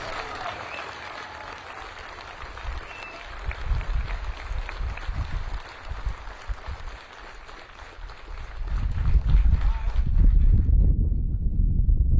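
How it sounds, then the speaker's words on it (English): An audience applauds paratroopers of the 82nd Airborne at a military ceremony, scattered clapping that swells into a louder, fuller ovation toward the end before cutting off abruptly. "Please join me for a round of applause in recognizing these exceptional paratroopers."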